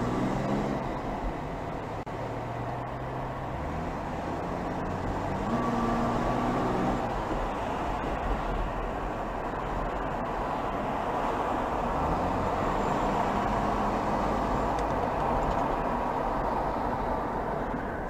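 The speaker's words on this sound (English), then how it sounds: "When your wheel bearing is doing this, especially if you haven't got your wheels tight enough, depending on the condition of the road, when you're just coasting" Worn front right wheel bearing on a Toyota 80 series fitted with mud tires, heard while coasting as a steady low droning rumble mixed with road noise throughout, with no talk.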